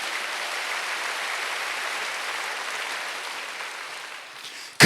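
Applause from a church congregation at a Korean Wednesday worship service, a steady even wash of clapping that holds for several seconds and tapers near the end.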